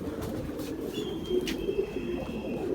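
A pigeon coos softly nearby, a low murmuring call repeating over a background hum, with a brief thin whistle-like tone and light rustling around it.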